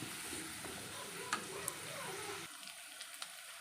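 Soya chunks and onion sauté with salt, ginger, garlic, green chili and curry leaves in a pan. A faint, steady sizzle with light ticks is heard, and it quiets abruptly about two-thirds of the way through.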